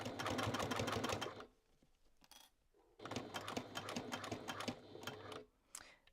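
A domestic sewing machine runs a top stitch with no backstitch in two fast, rapid-ticking bursts, close and steady. A short pause with small handling noises separates them.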